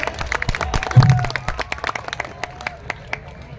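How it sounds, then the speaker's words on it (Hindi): Lively audience applause greeting a guest at a public event, with dense clapping that swells early on, then continues steadily with scattered sharp claps. "जरा जोरदार तालियों के साथ में"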